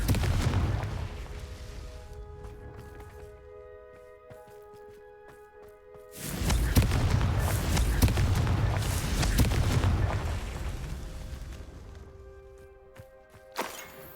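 Booming blasts from a Confringo spell in a Hogwarts video game, a heavy explosion rumbling over game music, then a second louder burst that lingers and fades.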